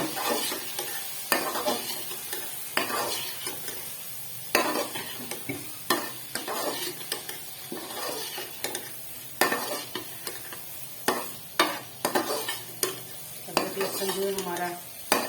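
Whole spices and garlic frying in a pot for kofta curry, with cumin, cloves, cinnamon and green and black cardamom among them: steady sizzle broken by repeated scraping stirs and clinks of a spoon against the pot, close up with no talk.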